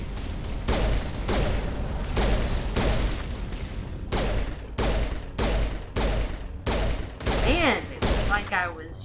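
A steady, loud fusillade of rapid gunfire from the video game Mass Effect Legendary Edition runs in bursts broken by short pauses, set in the Feros mission, with someone talking over it.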